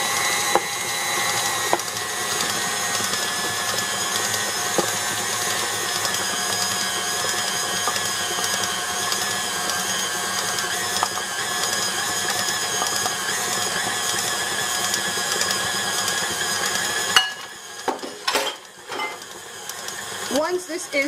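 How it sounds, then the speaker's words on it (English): A stand mixer paddles flour and salt into Italian rainbow cookie dough with a steady, loud mechanical whir and rattle for about seventeen seconds, then stops and a few knocks and clatters follow. "Once this is well mixed, we're going to shut the mixer"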